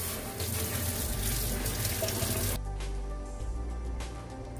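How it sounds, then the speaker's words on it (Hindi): Tap water runs steadily in a kitchen sink as an item is rinsed clean after being held over a flame, a continuous broadband rush that shifts in tone partway through, with no talking. "इसे आग में रखने के बाद हम पानी से धो लेंगे इस तरह से"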